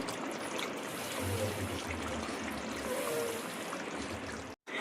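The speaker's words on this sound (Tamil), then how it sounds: "நம்ம ரைஸை போட்டு தேவையான அளவு தண்ணி ஊற்றி க்ளோஸ் பண்ணிக்கலாம்." Water poured onto rice in a pot for chicken biryani, a soft continuous trickling and splashing pour, fairly quiet and close, running alone for a few seconds.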